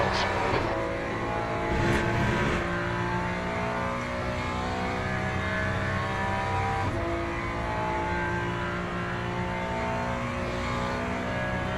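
A V12 race car engine in the Le Mans Ultimate racing game drones loudly and steadily, with brief revving surges early on and a sustained harmonic whine throughout.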